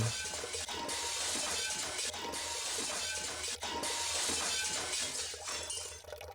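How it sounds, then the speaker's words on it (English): Glass tanks cracking and shattering in quick succession, several sharp breaking crashes and clinks over a constant hiss, faint overall. "I hear the high-pitched noise of glass cracking"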